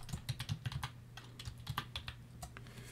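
Fast, irregular keystrokes on a computer keyboard tap out a short burst of typing, close and quiet, with brief pauses between clusters of clicks.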